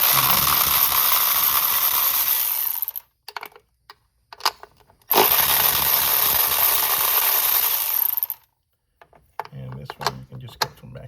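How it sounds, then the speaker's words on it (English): A broad hissing power-tool whir on a 2022 Ford Maverick 2.0 while an 8mm long socket removes a bolt, running in two long bursts separated by quiet gaps with scattered clicks. "This will allow me to remove the bolt, and I'm using 8mm long socket."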